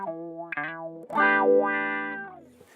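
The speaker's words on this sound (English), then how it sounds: "So with the Crybaby wah, with the wah range in the middle, that is really the classic" Boss PW-10 digital wah pedal in classic Crybaby mode with mid wah range, filtering a distorted guitar: a short plucked phrase, then a sustained chord whose tone sweeps down and back up, loud and alone.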